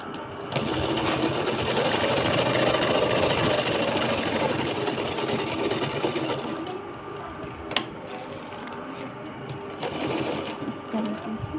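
A sewing machine stitching a large handbag runs in a fast, continuous mechanical rattle, close and loud, and eases off slightly near the end while someone talks over it.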